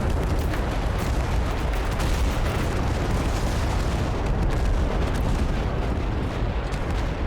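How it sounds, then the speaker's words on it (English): In the video game Total Conflict: Resistance, enemy fire pours in as a dense, continuous barrage of gunshots and booms that stays loud and unbroken throughout. "Looks like we got something firing at us."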